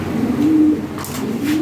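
Fancy pigeons at a sale centre give loud, close throaty coos, two rolling phrases in quick succession with a short break between them.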